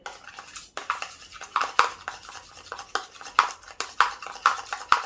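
A spoon stirs aloe vera gel mixture in a bowl, giving repeated light clinks and scrapes against the bowl in an uneven rhythm, close and fairly quiet.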